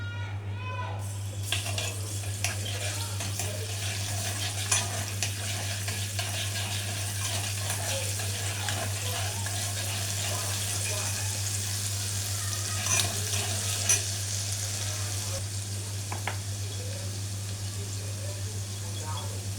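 Garlic cloves frying in leftover onion oil for Egyptian koshari tomato sauce, a steady close crackling sizzle with stirring scrapes running throughout, a low constant hum underneath and a voice talking over it.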